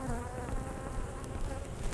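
Angry honeybees swarm around a hive, a dense, steady, close buzzing that fills the whole stretch without pause or voices.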